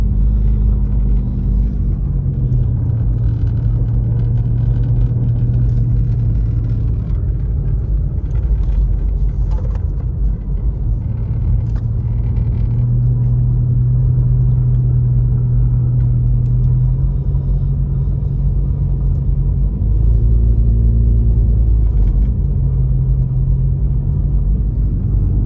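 A car drives on an icy, snowy road in Big Bear, California, its cabin filled with a constant deep rumble of engine and tyres. A low engine tone steps up and down as it shifts through gears.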